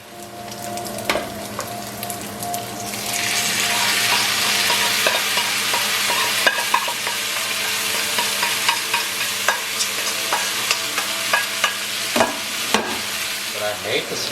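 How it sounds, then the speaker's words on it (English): Steak for a Philly cheesesteak fries slowly in a pan, giving a steady loud sizzle with frequent sharp pops and crackles scattered throughout, no speech. "Just cook it slowly, don't rush it."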